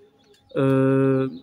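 A single pigeon coo from a loft of about fifty birds: one steady, resonant call lasting under a second, loud and close, with quiet before and after.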